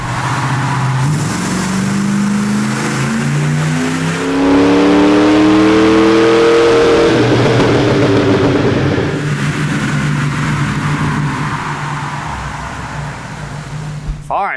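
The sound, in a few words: 1996 Ford Bronco engine revving on a dyno run in second gear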